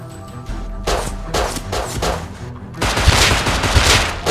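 Revolver gunshots in the video game Rust: several loud, separate sharp reports, then a denser run of shots near the end, close and punchy, with no talk.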